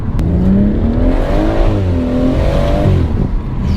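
A loud BMW M140 engine revs up and down, the aftermarket exhaust roaring and rising in pitch in close, continuous bursts.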